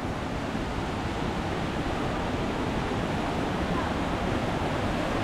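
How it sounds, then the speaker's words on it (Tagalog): Strong rushing water flows down from a mountain, a loud, steady, unbroken roar that fills the whole stretch with dense noise. "Ang lakas ng tubig nila. Galing sa bundok yan. Papunta doon sa baba."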